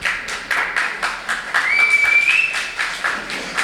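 Audience applause after a Kannada stage play fills a hall with steady, brisk clapping, swelling at times, with a thin whistle and no voices.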